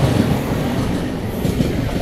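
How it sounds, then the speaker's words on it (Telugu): A train rolls past close by in Kerala, a steady loud rumble with rhythmic clatter of wheels on rail joints filling the whole stretch, with no voices. "కరెక్ట్ టైంలో ట్రైన్ అడ్డం వచ్చింది"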